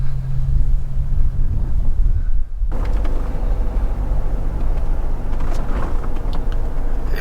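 Wind gusts steadily on the green, exposed east side of Molokai, Hawaii, a loud constant roar buffeting the microphone with low rumble that briefly drops out, then resumes.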